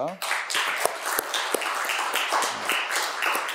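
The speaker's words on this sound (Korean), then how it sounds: "먼저 새해 첫 주일을 허락하신 하나님께 영광의 박수 올려드리겠습니다" Congregation claps together at a New Year's first Sunday church service, a steady ragged patter of many hands that carries on at a moderate level with distinct louder claps throughout.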